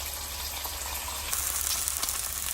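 Steady loud sizzling of bacon and eggs frying on a hot Ninja Sizzle Pro XL 20-inch griddle, a dense crackling hiss that swells slightly partway through.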